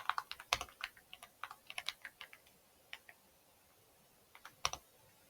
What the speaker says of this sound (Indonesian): Mari kita mulai mengetik.